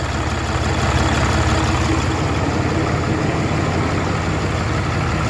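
A 2013 Cummins diesel truck engine idles steadily while warming up, a loud, close, even low rumble with a rapid chugging pulse throughout and no talk.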